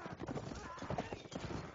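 Horses gallop in a video game battle, their quick clip-clop hoofbeats rapid and dense amid battle noise, with a faint whinny and a voice talking over the action.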